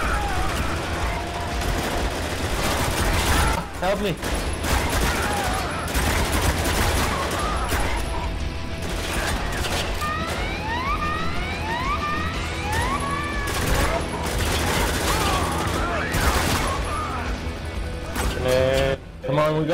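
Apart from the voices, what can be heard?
gunfire in the video game Spec Ops: The Line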